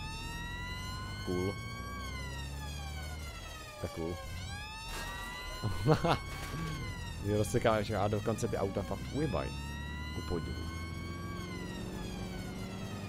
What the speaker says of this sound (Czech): Počkej, nemůže zapnout nějak sirénu i?